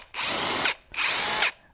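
DeWalt DCF964 3/4 inch cordless impact wrench, two short close bursts of rapid hammering whir, each lasting about half a second with a brief pause between them.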